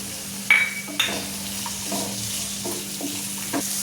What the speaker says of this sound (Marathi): अर्धी वाटी वाटाणा ते भी टाकून घेऊ